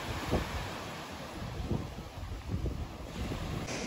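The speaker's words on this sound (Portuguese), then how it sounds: "Chegamos aqui na praia." Ocean waves wash onto Jabaquara beach in Brazil under steady, loud wind buffeting the microphone, with a constant roar of surf and a few low rumbling gusts and no talking.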